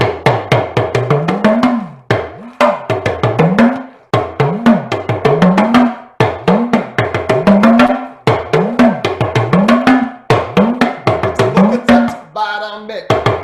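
A hand drum, played at a Lag b'Omer celebration, beats out the barambe bukata rhythm: repeated groups of sharp strikes with a low pitch-bending boom in each cycle, loud and close, ending with a brief different tone.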